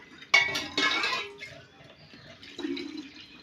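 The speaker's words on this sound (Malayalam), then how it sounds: "ഇതുപോലെ വെള്ളം ഒഴിച്ച് നിറയെ ആക്കി എടുക്കണം" Water splashes and pours into a bottle to fill it for a plant feed mix, with clinks of glass or plastic, then a trickling fill that fades and returns, fairly close and quiet.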